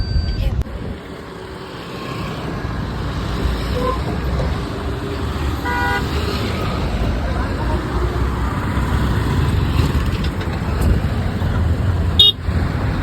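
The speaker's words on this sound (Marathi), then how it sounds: "ही गाडी निघाली आपल्या परीला आणण्यासाठी" A decorated car setting off, its engine rumbling low and steady with a few short horn toots, the last one sharp near the end, while people talk nearby.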